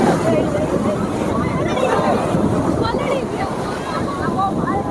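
Sea waves washing ashore at Shivrajpur beach, a continuous rushing surf with wind buffeting the microphone and a babble of people talking nearby over the roar.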